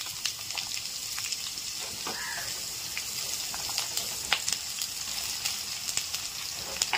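Cut eggplant pieces hit hot oil already crackling with black cumin seeds in a home kitchen pan, giving a steady, close sizzle with scattered pops and spatters.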